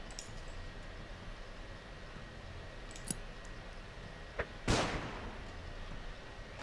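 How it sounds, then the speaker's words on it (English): A flashbang grenade from the game Underrail goes off as one sharp, loud burst that then decays, set against quiet background hum and a few small clicks before it. "We flashbang him."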